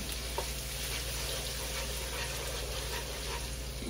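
Ginger sautés in a hot pan with a steady, dense sizzle that holds level throughout, close and continuous, with no voices over it.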